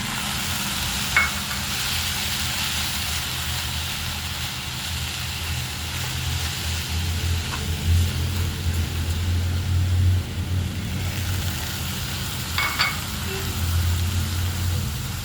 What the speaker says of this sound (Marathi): यात आपल्याला थोडंसं दूध टाकून घ्यायचं आहे म्हणजे खवा लवकर मिक्स होईल आपला